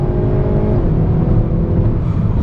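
A Hyundai Veloster N with an 8-speed dual-clutch automatic accelerates hard on a race track, a loud, close engine note from inside the car, with a quick shift as the pitch drops partway through.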